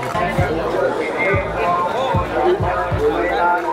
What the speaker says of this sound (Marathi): जसं जसं उशीर होईल तर ही गर्दी वाढतच जाणार आहे